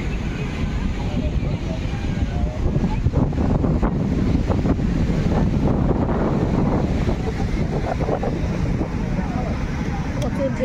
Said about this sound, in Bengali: প্রচুর ঢেউ আসছে সমুদ্র।